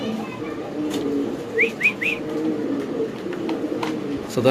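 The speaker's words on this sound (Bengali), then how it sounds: "নরের ডাকটাও দেখাই দিই আমরা দর্শক" A male fancy pigeon coos at close range, three quick rising calls in a row against a steady background hum of a pigeon farm.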